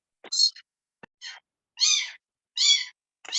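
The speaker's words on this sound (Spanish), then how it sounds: "Hay un gato, Sí, hay alguien que tiene un gatito." A cat meows repeatedly through an online class microphone, several short, thin, high cries spaced apart in an otherwise silent background, heard fairly close.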